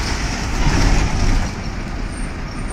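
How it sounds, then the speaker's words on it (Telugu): A bus rumbles past on a town road near the IT gate in Tenali, Andhra Pradesh, a loud, close, low engine roar that swells and then eases off as it passes. "వెళ్తున్న బస్సు,"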